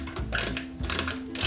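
A small screw is driven into the plastic gear lever base of a 1/8 scale Citroën C4 WRC 2008 model, giving close ratcheting clicks in three quick bursts, no voices.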